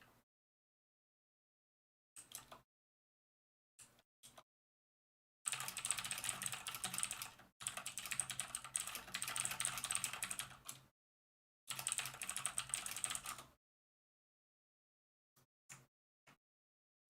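Bursts of computer keyboard typing, with short isolated key taps followed by several seconds of dense, rapid clatter, a pause, then another run and a few scattered final taps, close and moderately loud with no talking.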